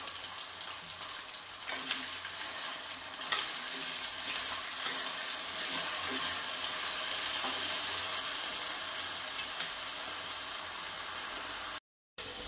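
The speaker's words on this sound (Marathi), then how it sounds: "इथं ओला वाटाणा घेतलेला आहे मी, तो पण याच्यामध्ये फ्राय करून घेऊया" Green peas and potatoes frying in oil in a kadhai for a spinach, pea and potato vegetable dish, a steady broadband sizzle running throughout with occasional clinks of stirring, close and fairly loud, no talking.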